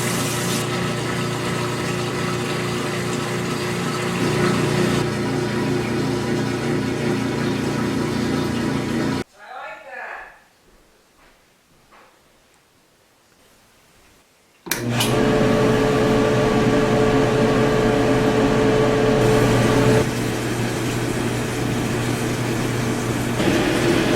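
An empty washing machine drains water with no clothes inside, giving a loud, steady pump-and-motor hum that drops to near silence for a few seconds midway before resuming at full strength.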